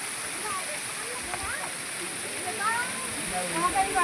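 Cold water pours steadily from the spouts at Muktinath temple in Nepal, a constant rushing splash with scattered bird chirps and faint voices in the background.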